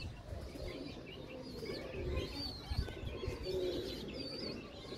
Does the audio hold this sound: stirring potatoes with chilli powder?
no